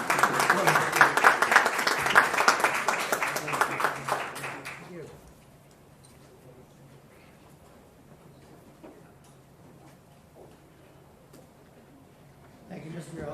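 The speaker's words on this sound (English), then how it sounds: "Let's give them a round of applause." Applause at a city mayor and council meeting for honored local businesses, a few seconds of brisk clapping that fades out, leaving a quiet room hum before faint sounds return.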